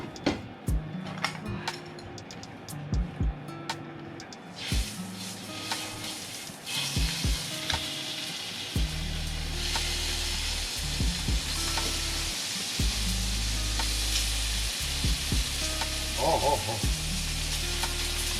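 Steady sizzling and frying of steak on a hot grill, growing louder partway through, with a few faint clinks and soft sounds over the crackle.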